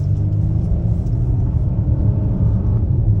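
A 2022 Volvo XC90 accelerating at full throttle, heard from inside the cabin as a steady, loud low engine and road rumble with no distinct shifts, continuous throughout.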